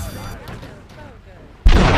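A tank cannon fires in a GTA game with one sudden, loud, close boom near the end that leaves a heavy rumbling tail. Quieter game noise comes before it, with a voice talking.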